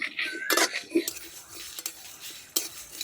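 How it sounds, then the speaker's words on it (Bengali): Whole spices and dried red chillies roast in a dry wok, with scattered sharp scrapes and clinks of a utensil stirring them over a faint crackle. "সবগুলো একসাথে শুকনো কড়াইতে দিয়ে ভালো করে ভেজে নেব"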